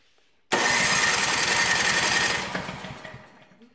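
A Craftsman snow blower engine with a suspected carburetor fault, primed and choked, cranks with a sudden loud mechanical chugging and rattling that runs about two seconds and then dies away without catching.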